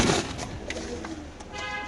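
Pigeons kept at a pigeon farm, fancy breeds with chicks, restless and fluttering, give low soft cooing under a busy, noisy background, steady throughout.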